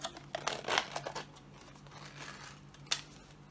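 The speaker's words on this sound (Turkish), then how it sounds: "Sonra paketini açıyorum." A Knorr instant pasta package is torn open up close, giving a burst of crinkling, rustling plastic followed by quieter handling and one sharp crackle near the end, with no talking.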